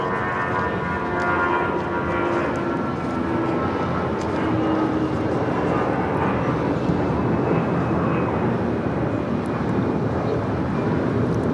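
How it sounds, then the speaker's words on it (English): An Airbus A319 on flight 521 to Dallas-Fort Worth takes off from Los Angeles International Airport, a steady broadband jet engine roar rising slightly over about twelve seconds, heard from a distance with wind noise on the microphone. "This is the flight taking off to Dallas-Fort Worth, flight 521 on the A319."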